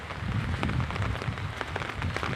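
Steady rain pours outdoors on a Diwali night, an even, continuous patter on surfaces with no voices present.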